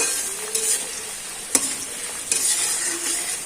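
Ginger, garlic and onion sizzle in a hot pan while being stirred, a steady crackle broken by several sharp scrapes and clinks of a spatula against the metal.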